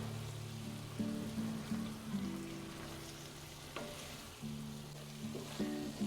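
A ground beef and potato mixture sizzles steadily in a pan over medium-low heat, with soft scraping and tossing knocks from stirring recurring every second or so, close and fairly quiet, no talking.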